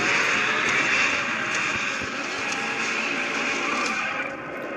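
A Bugatti Veyron races in GT Racing 2 from the cockpit view on the Laguna Seca circuit, giving a steady, muted engine roar that holds evenly throughout without talk.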